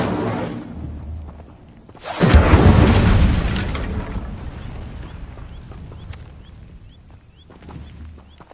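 An Incendio fire spell is cast in Hogwarts Legacy, giving a sudden loud whooshing burst of flame that roars and then trails off into a fading crackle.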